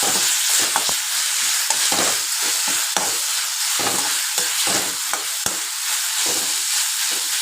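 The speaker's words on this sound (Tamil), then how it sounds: "இது கூடயே நம்ம அரைச்சி வச்சுருக்க இஞ்சி பூண்டு பேஸ்ட்டு இதையும் போட்டு நல்லா வணக்கிக்கலாம்" Tomatoes and ginger-garlic paste sautéing in a pan: a loud, constant sizzle broken by repeated scrapes and clicks of stirring, close by with no talk.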